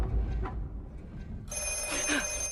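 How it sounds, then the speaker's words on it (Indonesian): A telephone rings in a film scene, its bell tone starting partway through and continuing steadily, fairly loud over a low background hum. "tetapi telepon kemudian berbunyi."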